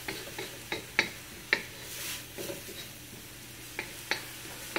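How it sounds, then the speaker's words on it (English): Cabbage and cauliflower rice stir-fried in a pan, with a spatula tapping and scraping in regular strokes over a soft continuous sizzle, close up and moderately quiet. "I continue to stir fry, stirring constantly"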